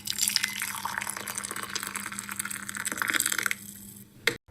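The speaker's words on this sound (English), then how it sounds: "That's the sound of the coffee pouring." Coffee pours into a cup in a steady liquid stream with trickling, splashing detail for about four seconds, then cuts off abruptly with a small final clink.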